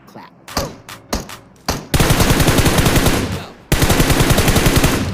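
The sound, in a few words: gunfire in video game PUBG Mobile, Sanhok map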